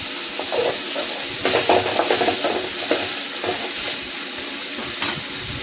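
Dried red chillies sautéing in a pan for a dosa side dish, with continuous oily sizzle and hiss plus occasional stirring scrapes and clinks close by, steady and fairly loud with no talking.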